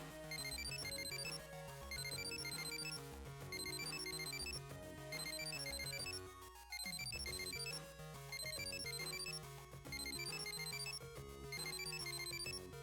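A phone in the Mega Man Battle Network 3 video game rings with a loud, looping electronic melody that repeats steadily without pause, briefly cut near the middle.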